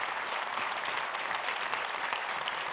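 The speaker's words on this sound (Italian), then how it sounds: "facciamo un applauso a loro." A studio audience at a televised Italian singing show applauds the performers, giving dense, even clapping that holds steady throughout with no voices over it.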